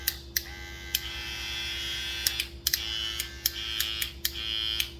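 Gamma Boosted hair clipper running steadily with a constant electric buzz and high whine, close and fairly loud, broken by several short sharp clicks or taps as it is handled.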